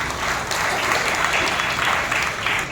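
A church congregation at Sunday worship claps hands together in a steady, full round, the dense rhythmic patter holding at even loudness throughout.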